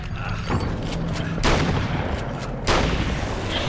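Gunfire in the video game Alan Wake American Nightmare: a couple of heavy booming shots over a continuous rumbling game soundtrack, loud and close.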